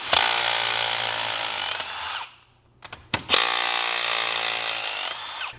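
A ratchet wrench cracking loose Loctited engine bolts on a Seadoo 951 engine, heard as two long runs of fast, loud ratcheting clicks close by, split by a brief pause with a few isolated clanks, with no talking.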